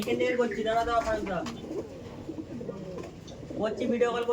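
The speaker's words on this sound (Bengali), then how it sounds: "এই যে নর ছিল, এত ছটফটে পায়রা" Restless pigeons in a loft give soft, repeated cooing close by, heard under someone talking.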